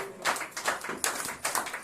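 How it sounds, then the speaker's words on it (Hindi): Audience clapping at a birthday gathering, uneven bursts of hand claps at close range, rising and falling in quick irregular waves. "ताली बजाते रहो जोर जोर से।"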